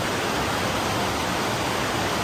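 A spring waterfall in Michigan's Upper Peninsula roars steadily, a dense unbroken hiss of falling water with no voices, close and even throughout.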